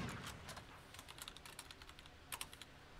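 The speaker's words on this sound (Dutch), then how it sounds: "Ik was even aan het typen." Quick, light clicking of keys being typed on a computer keyboard, steady irregular taps heard close and quiet, with no talking.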